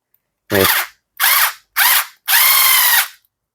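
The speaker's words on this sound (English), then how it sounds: "So you just screw it in and try to be as straight and centralized as possible when you're doing it." A power driver drives a screw into an action figure's thigh swivel: four loud close whirring bursts, the last one longest, separated by brief silences.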